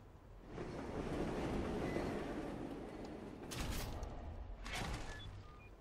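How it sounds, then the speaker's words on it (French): A train rumbles past in the video game Wolfenstein: The New Order, a broad, roaring wash that swells and holds steady, with two brief bursts of rattling near the end and no talk. "Il y a encore des trains qui passent ici."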